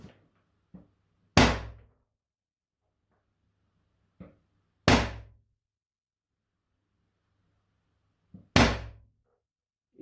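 An Umarex HDR50 paintball marker fitted with a magfed kit fires three loud, sharp shots a few seconds apart, each preceded by a soft click, in an otherwise quiet space.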